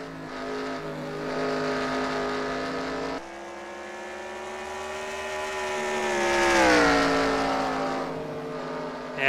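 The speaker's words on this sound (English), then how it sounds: "Harley Payne still continues to lead the charge in car number 62 as he works down the front straightaway" Race car number 62 running down the front straightaway at Knoxville Raceway in an SRX Series race, a loud, steady engine drone whose pitch swells and then falls as the car passes close by, with no voices.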